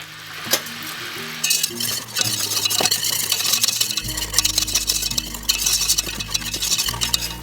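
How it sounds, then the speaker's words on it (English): A whisk stirs a flour mixture in a pan for tuna lasagna, with repeated scraping and metallic clinks against the pan over a light sizzle, close and fairly loud. "we'll get our whisk in there"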